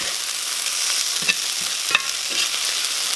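Grainy mustard stirred into a sizzling pan of tomato relish, a steady close frying hiss with a couple of brief spoon scrapes, no voices.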